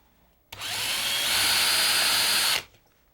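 A power drill whirs loudly and steadily for about two seconds while drilling into wood, starting and stopping abruptly, with quiet before and after.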